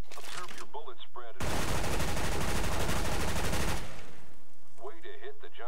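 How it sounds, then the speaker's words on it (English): Rapid automatic gunfire in Counter-Strike: Global Offensive, a weapon emptied at a target in a burst lasting a couple of seconds. Speech comes before and after the shots. "Pick up that weapon and unload the clip into the target."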